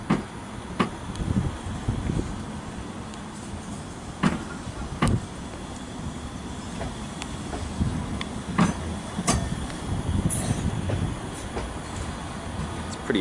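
A Manchester Metrolink tram rumbles steadily as it pulls away from Deansgate-Castlefield, with periodic clicks and clacks from the wheels over track joints, no voices.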